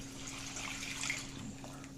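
Water splashes and gurgles as it is poured steadily into a slow cooker for pork and beans, a continuous close pour over a low electrical hum, with no talking.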